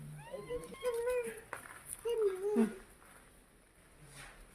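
A cat meows close by at a home where fish is being cut, a few high, rising cries mixed in with someone talking.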